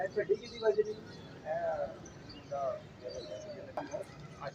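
Neighbours' pigeons cooing and calling near a house as they fly off overhead, soft repeated coos and chirps at moderate distance, with someone talking over them.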